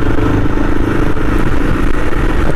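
A 2024 Yezdi Adventure motorcycle rides through potholes, its engine a loud, close, continuous drone mixed with rattling wind and road rumble.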